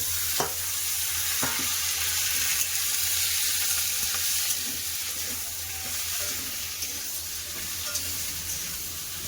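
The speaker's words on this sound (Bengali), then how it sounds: "পেঁয়াজ ভাজা হয়ে গেছে দিয়ে দেবো আলু ডাটা" Potato, vegetable stems and pumpkin fry in a pan with browned onions, hissing steadily up close while a spoon clicks and scrapes through them every second or so.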